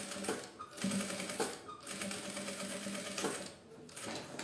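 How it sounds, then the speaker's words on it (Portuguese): An industrial sewing machine stitches a zipper pouch with a standard presser foot, running as a steady continuous motor whir with brief pauses and speed changes, close and fairly loud, with no talking. "Eu vou costurar com um pé de máquina mesmo, seguindo a margem de um pé, como se fosse máquina doméstica aqui na minha industrial."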